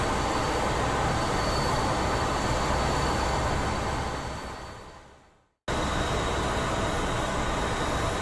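An F-14 Tomcat taxiing to the runway in the DCS World flight game, a loud steady jet engine roar that fades toward silence, cuts out completely for a moment, then returns abruptly at full level.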